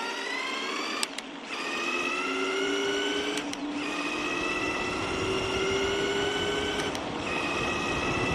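A 72v mid-drive e-bike motor whines loudly under thumb throttle in the lowest gear, its pitch climbing steadily with brief dips at each shift, close and continuous.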